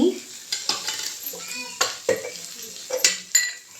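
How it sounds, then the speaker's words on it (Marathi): Salted chillies and chickpeas hit hot oil for a tempering, giving a crackling sizzle punctuated by repeated sharp clinks of a spoon stirring against the pan, close and fairly loud. "ही खारातली मिरची, खारातली मिरची बरोबर हे चणे फोडणीला घालायचे"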